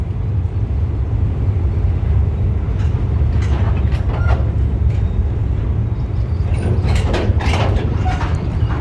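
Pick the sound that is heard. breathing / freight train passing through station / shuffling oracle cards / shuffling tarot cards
freight train passing through station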